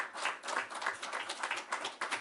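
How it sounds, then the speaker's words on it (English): Participants in an online academic workshop clap together, a brief patter of several pairs of hands at moderate level, slightly compressed, with no talk over it. "Then can we give as well an applause to Turkey?"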